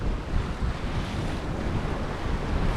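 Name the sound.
strong wind at sea aboard a sailboat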